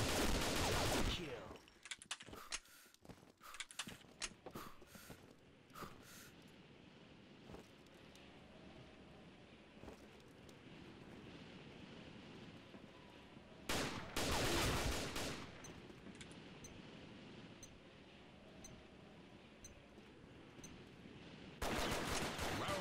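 Rapid gunfire from the squirt gun in the shooter game Combat Arms, with bursts of shots and loud broadband blasts rising over steady ambient game noise.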